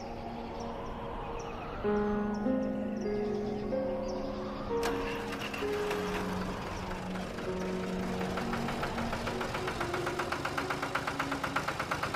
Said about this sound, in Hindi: अरे सिपाही, ट्रैक्टर ले चलो।